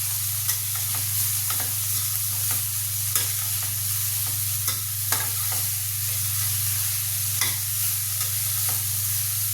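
Rice stirred and fried in a pan, a steady close sizzle broken by repeated scraping strokes of the spoon at an even pace, with a constant low hum beneath and no talking.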